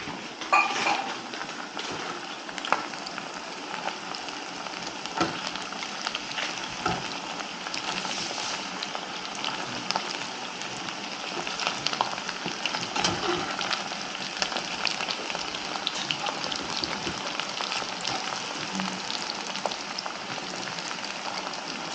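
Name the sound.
chicken pieces frying in a pan, Japan chicken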